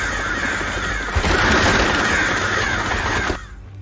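Crows caw loudly and repeatedly at close range, a harsh chorus of overlapping calls that swells midway and then cuts off abruptly.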